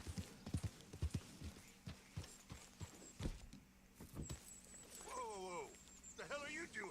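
Horse hooves clip-clopping in Red Dead Redemption 2, a rhythmic series of sharp hoof knocks close by while someone talks over them, followed by whinny-like game sounds near the end.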